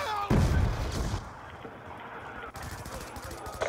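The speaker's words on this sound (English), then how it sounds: "Throwing frag." Frag grenade blast in Black Ops 2 gameplay: a loud, heavy boom early on with a rumbling tail, followed by scattered gunfire and game noise, with some voice mixed in.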